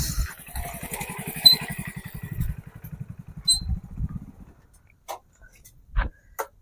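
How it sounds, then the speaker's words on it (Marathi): A motorcycle engine putters at idle nearby in a steady low pulsing beat as riders pull up, then cuts out, leaving a few faint scattered knocks and movements. "मोटर चालू करून आलेत आत्ताच"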